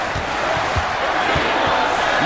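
Loud, continuous arena crowd roar in a basketball video game, with faint ball bounces thudding underneath.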